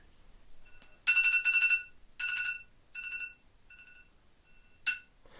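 A timer alarm goes off after a JBL Pulse 3 speaker spent an hour underwater: several bursts of bright electronic ringing beeps, loud then fading into shorter tones, with a final sharp beep and no talking.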